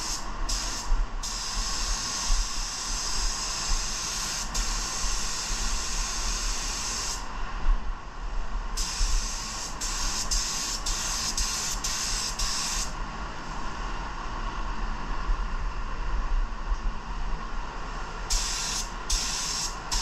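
Spray gun laying one coat of medium gray Uricam sealer onto a 1986 El Camino, a steady close hiss that stops briefly twice before resuming, with no talking.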